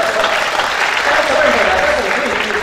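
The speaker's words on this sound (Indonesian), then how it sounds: "Mau tepuk tangan untuk Yesus." A congregation claps loudly and continuously during a religious talk, a dense wash of applause with a voice speaking over it.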